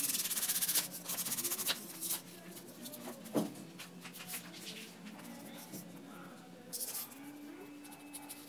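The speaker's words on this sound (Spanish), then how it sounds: "Vamos a lijar muy, muy bien" Sandpaper rubs over a carved face roll holder in short, close scratchy strokes with brief pauses, fairly faint, and nobody talking.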